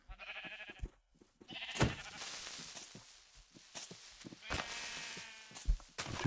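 Sheep in Minecraft bleat in several short wavering calls amid game sounds and footsteps, fairly faint, with no speech.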